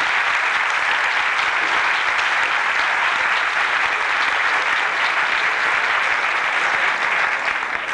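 Steady, dense applause from a large crowd at a diocesan synod in the Canary Islands fills the space, loud and continuous throughout without letting up.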